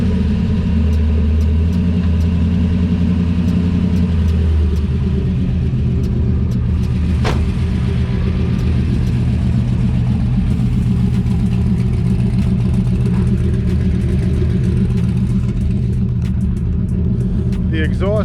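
An LS-swapped Chevrolet IROC-Z V8 with Speed Engineering 3-inch headers and a 4-inch Mufflex exhaust starts and settles into a steady, deep, loud idle nearby.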